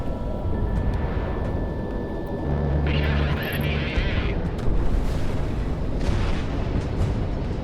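A missile explosion in the flight combat game Project Wingman, played in VR, erupts as a rumbling boom over a continuous roar of jet engines.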